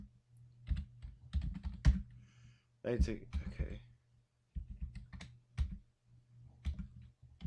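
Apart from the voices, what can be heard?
typing on a computer keyboard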